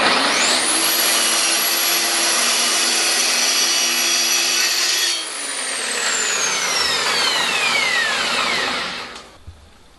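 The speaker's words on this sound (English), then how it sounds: "This allows precise positioning of the workpiece before lowering the track and cutting." A track saw slices through scrap MDF, its motor whining up to a steady loud cut for several seconds, then spinning down with a falling whine before going quiet, close by with no talk.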